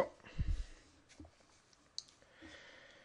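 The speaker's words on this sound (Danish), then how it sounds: "Jeg dobbeltklikker lige på iQboard softwaren for at komme ind i den." A computer mouse clicking at a desk, a few faint, brief clicks near the start and a sharper click later, under quiet background noise with a faint breath.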